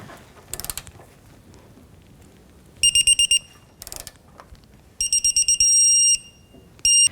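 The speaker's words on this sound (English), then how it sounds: "I have my digital torque wrench set to 55-degree angle" A digital torque wrench beeps in bursts of sharp electronic tones, with repeated pulses and one longer held tone, between ratcheting clicks as the lower rear control arm bolt on a 2007-2014 Cadillac Escalade is tightened.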